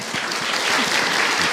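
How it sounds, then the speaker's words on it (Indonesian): An audience at an Islamic religious talk gives a short, dense burst of applause that swells slightly as it goes, loud and close, with a faint voice briefly audible underneath. "Baik, Bu, tepuk tangan dong untuk Ahilman, Bu."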